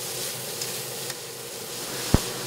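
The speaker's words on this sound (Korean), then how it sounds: "파스타면을 삶고 야채와 햄을 넣어 볶는 손놀림이 예사롭지 않습니다" Pasta with vegetables and ham is stir-fried in a pan in a shared kitchen in Seoul's Yongsan district. There is a steady sizzle close up, with a few light clicks and knocks of a utensil against the pan.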